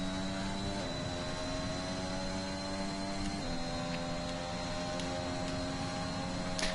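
An F1 car engine in a PlayStation racing game at the Bahrain Grand Prix holds a loud, steady high-pitched whine, with clean pitch steps at a couple of gear changes and no talk.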